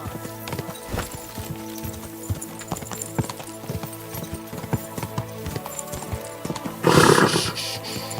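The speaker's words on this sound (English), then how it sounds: "Easy, good horse." A horse's hooves clip-clop steadily and close by, followed near the end by a loud, sharp neigh that stands alone without talk.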